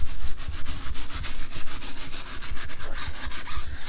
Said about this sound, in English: We're just going to scrub the heck out of them.